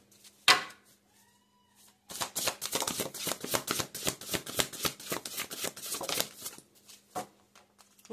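Tarot cards are shuffled for a reading in a dense, fluttering burst of rapid riffling that lasts several seconds, close by, with an isolated tap before and after.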